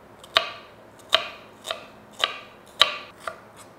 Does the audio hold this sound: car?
no